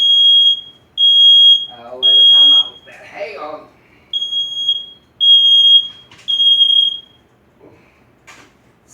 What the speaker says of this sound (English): Smoke alarm goes off every time I open that toaster oven